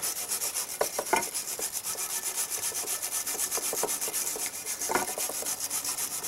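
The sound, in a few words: polishing an aluminum antenna pole with a stainless brush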